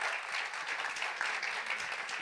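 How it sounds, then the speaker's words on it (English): Brief burst of audience applause at an after-work entrepreneurship event, steady dense clapping throughout, fairly faint and with no talking over it. "round of applause"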